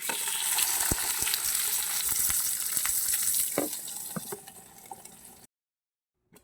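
Milkfish fries in a little oil in a pan, a steady crackling sizzle with scattered pops that fades over several seconds before cutting to silence.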